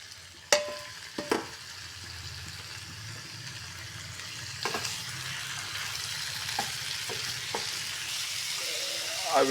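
Mutton pieces frying in a pan for an Assamese mutton curry with papaya and potato, a steady close sizzle with a few sharper crackles and clinks near the start, no talking.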